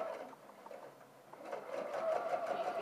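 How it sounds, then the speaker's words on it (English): A sewing machine understitches the seam allowance onto an under collar in short bursts of rapid, rhythmic needle clatter, quiet and close, pausing briefly before running faster and steadier toward the end. "I'm actually sewing on the seam allowance again, and I'm actually sewing onto the under collar"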